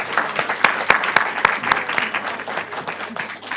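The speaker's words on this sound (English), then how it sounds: "Would you just join me in a round of applause to show our appreciation?" A room full of people claps in warm, sustained applause, dense and even, with a few sharper individual claps standing out near the front.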